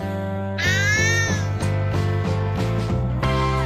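A cat gives a long, drawn-out meow, close and loud, with a tonal hum underneath and a second cry starting at the end.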